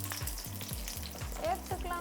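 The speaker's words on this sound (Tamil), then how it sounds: "நம்ம சேர்த்துருக்க எண்ணெய் சூடாயிடுச்சுக்கா. இதில் ஒரு 50 கிராம் அளவு வெங்காயம் சேர்த்துக்கலாம்." Chopped onions sizzling steadily in hot oil, with a spoon scraping and stirring the pan every half second or so.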